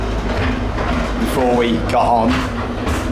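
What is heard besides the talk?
safari train moving on rails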